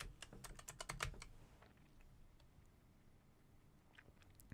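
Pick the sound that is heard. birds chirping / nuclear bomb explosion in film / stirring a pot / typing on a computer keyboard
typing on a computer keyboard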